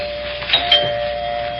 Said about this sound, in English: I rang the bell.